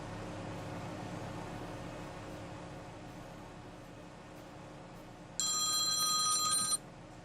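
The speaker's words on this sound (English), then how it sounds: "Oh, that's the phone." In a farming simulator game, a telephone bell rings once in a short, bright burst of about a second and a half near the end, over a quiet, low background hum.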